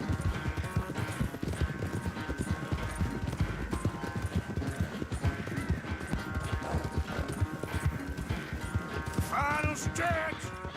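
Galloping horse hooves in a video game, a rapid continuous clip-clop drumming steadily throughout, with a brief whinny near the end.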